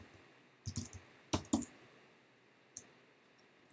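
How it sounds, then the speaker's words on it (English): Keys tapped on a computer keyboard, a few quiet clicks in small uneven clusters with gaps between, close and faint in an otherwise quiet room. "And I can type in something else."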